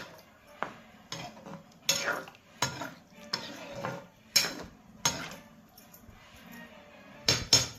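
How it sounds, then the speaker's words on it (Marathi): A spoon stirs a wild mushroom curry in a cooking pot, clinking and scraping against the metal in a steady series of sharp strokes about once a second, close and clear with no talking. "तर आता आम्ही असं ढवळून घेतो आता पूर्णपणे व्यवस्थित."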